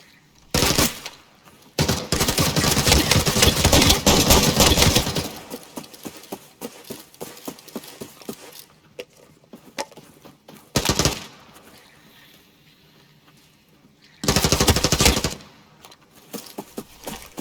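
Bursts of automatic gunfire during a Halloween event match of the shooter Arena Breakout Infinite, several loud volleys separated by quieter stretches of ambient game sound.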